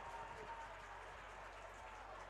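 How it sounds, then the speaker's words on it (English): Crowd at Toyota Stadium breaks into sarcastic applause after a penalty in a U19 soccer match between Botafogo and Philadelphia Union, a steady wash of clapping across the whole stretch with no clear pauses. "Receives a sarcastic applause in return from Lima"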